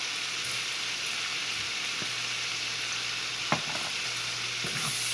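Onions fry in a pan for bacon, spinach, onion and three-cheese scalloped potatoes, a steady close hiss and crackle with a few soft clicks and taps of a utensil; no voices.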